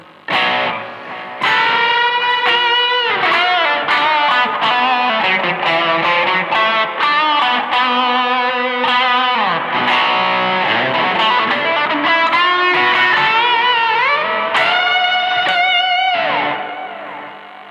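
Electric guitar played through overdrive distortion, a gritty sustained melodic line with bends and held notes, loud and close with no talking.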